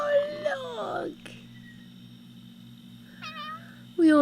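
A cat meows several times, close and clear: a drawn-out falling meow at the start, a shorter chirpy one later and another beginning at the end, separated by near silence with a faint background hum.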